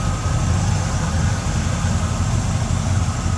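A 1965 Chevrolet Chevelle Malibu's V8 engine idles steadily with a deep, even rumble, running smoothly without revving throughout.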